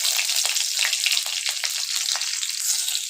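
Whole spices, a slit green chilli and a dried red chilli sizzle steadily in hot oil, a close, continuous bright frying crackle with small pops, and no talking.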